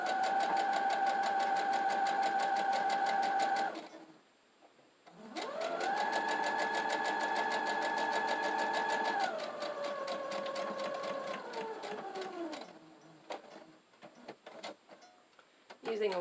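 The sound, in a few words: sewing machine sewing a straight stitch along a mug rug edge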